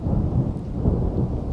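Thunder rumbles steadily beneath heavy, constant rain on a stormy night, a dense low roar that stays loud and unbroken throughout, with no voices.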